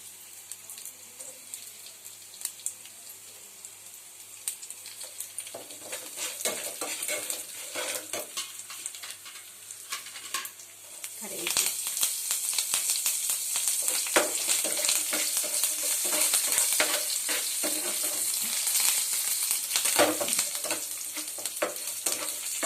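Fenugreek seeds and dried red chillies sizzle and fry in a pan for tamarind rice, with scraping stirring strokes that grow louder and denser halfway through, steady close frying throughout.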